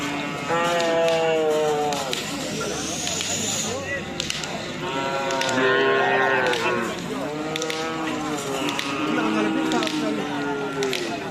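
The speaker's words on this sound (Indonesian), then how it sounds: "suasana lomba karapan sapi di Pulau Sapudi" Several cattle at a karapan sapi bull race on Sapudi Island, Indonesia, moo repeatedly in long, drawn-out calls that overlap one another, with a busy outdoor crowd murmuring beneath them.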